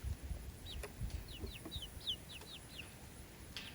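Soft, quick chirping peeps from chicks repeat in a rapid series over faint low rustling, fairly quiet and close by.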